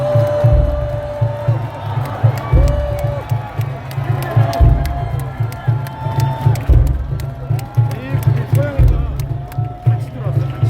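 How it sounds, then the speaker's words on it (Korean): Crowd at an outdoor presidential campaign rally in Seoul City Hall Plaza cheering and clapping in repeated swells, loud and close, with shouts mixed in and a voice talking over the noise. "여러분 다시 한번 큰 박수를 부탁드리겠습니다"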